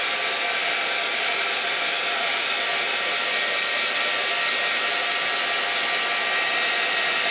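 A heat gun blasts steadily at close range, drying and heat-setting ink on a vintage-style Christmas tag, a loud continuous airy roar with no talk over it.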